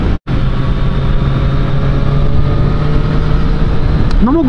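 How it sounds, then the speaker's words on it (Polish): Triumph Street Triple 765RS motorcycle from 2020, ridden in sport mode, holds a steady loud engine drone throughout with a rising rev at the end, heard from the rider's position with wind noise. "Zapieprza ten motocykl, naprawdę zapieprza."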